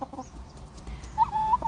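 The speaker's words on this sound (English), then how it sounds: "Chickens!" Chickens cluck in a few short, nearby bursts, followed by a brief higher call, with faint background noise.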